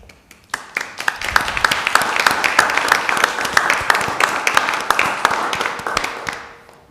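Sustained applause from a crowd at a city council meeting, many hands clapping steadily and fairly loud, building quickly and then tapering off at the end.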